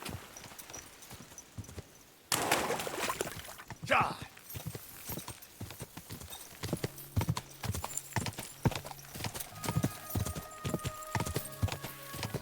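Horse hooves clip-clop in a steady walking rhythm in the medieval game Kingdom Come: Deliverance 2, close and clear, with a brief whinny early on and faint game ambience around them.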